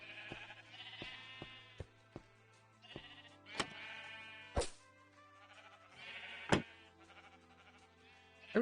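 Sheep in a Minecraft-style video game bleat several times in wavering, nasal calls, faint and spaced apart, mixed with sharp clicks and taps from play.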